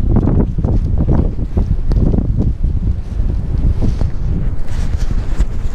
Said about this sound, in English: Windy enough for you?